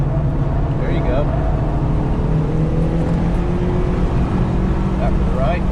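A car accelerating hard around the Carolina Motorsports Park racetrack during a high-performance driving session, its engine droning loud and steady from inside the cabin, with a voice speaking over it.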